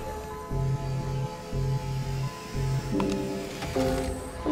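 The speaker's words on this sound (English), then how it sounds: "Is that the printer that's so noisy?" A noisy printer in the Astroneer video game hums steadily in low, droning bursts that start and stop several times, with a brief extra whir near the end; no talk is heard.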